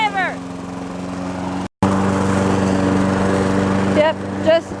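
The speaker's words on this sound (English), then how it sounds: "Yep, just taking my lawnmower out for a walk." A lawn mower engine drones steadily and loudly from start to finish, broken by one brief dropout, while a voice talks over it throughout.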